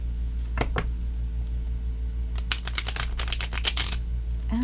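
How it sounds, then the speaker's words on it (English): Tarot cards are riffle shuffled by hand: two short flutters near the start, then a longer rapid burst of crisp, close card riffling, with no talk over it. "These don't like riffle shuffling, but I'm going to do it again"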